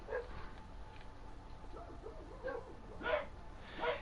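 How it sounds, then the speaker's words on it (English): Several pet dogs bark and yip in the background, a few short, muffled barks spaced out under a quiet hum, with a faint voice in between. "if you guys can hear dogs in the background"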